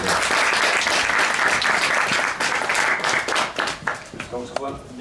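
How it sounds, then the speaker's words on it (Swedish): Applause from an audience at a Swedish touring car championship press conference, steady dense clapping that fills the space and then thins out toward the end, with a voice starting to speak over the tail. "En applåd till Albin."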